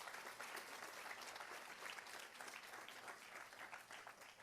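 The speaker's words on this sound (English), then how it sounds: "Please, let's give them a big round of applause." Audience at an Indian-American teen pageant in Michigan applauds the contestants, a continuous dense clatter of many hands, fairly distant and faint, holding steady throughout.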